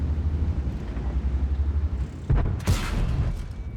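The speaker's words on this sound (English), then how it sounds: "The gun misses." The AMX 65T heavy tank's gun in World of Tanks fires with one sharp, loud boom that rolls off into a rumbling tail. A steady low engine drone runs underneath beforehand.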